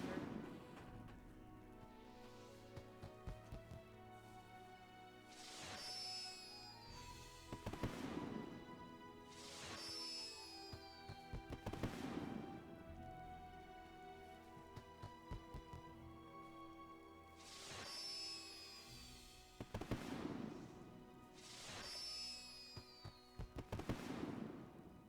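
Fireworks in the online game The Lord of the Rings Online go off repeatedly over a sustained musical backdrop. Whistling rockets rise and burst into crackling sprays about every few seconds, each followed by sharp pops.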